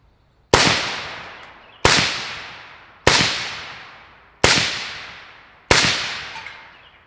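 Five evenly spaced, loud gunshots from an AK-74 rifle fitted with a Liberty Precision Machine Torch suppressor and vented end cap, each a sharp crack followed by a decaying tail.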